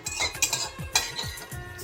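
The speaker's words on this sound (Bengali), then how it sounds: "কারি পাতা নিম পাতাটাও ভেজে নিচ্ছি" Curry leaves and neem leaves fried in a pan for a Bengali shukto, heard as a quick series of clinks and scrapes of a spatula stirring against the metal pan, close and fairly loud, with no talking.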